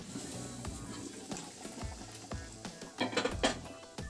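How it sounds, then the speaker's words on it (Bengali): Boiled Malabar spinach frying in hot oil with garlic and dried red chili, giving a steady close sizzle broken by sharp stirring scrapes and clatters, with louder bursts of spluttering toward the end. "এখন এর মধ্যে সেই সেদ্ধ করে রাখা শাকটা দিয়ে দেব।"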